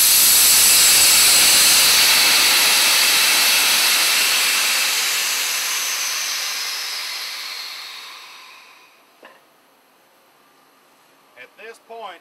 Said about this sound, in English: Open your manual blowdown valve and de-energize this unit